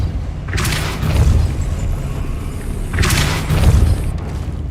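A Depulso spell goes off in Hogwarts Legacy, throwing two heavy booming whooshes a couple of seconds apart, each a loud low thud with a bright burst on top, set against a rumbling battle bed.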